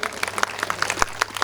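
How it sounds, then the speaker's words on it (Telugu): Congregation at a Saint Joseph church prayer gathering claps loudly, dense overlapping applause with sharp bursts rising and falling over a second and a half, a voice faintly mixed in. "గట్టిగా చప్పట్లు కొడదాం."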